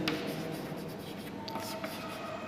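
A pen scratches across paper as a condition is written out by hand for a continuity math problem, a close, continuous scribbling with small taps and strokes.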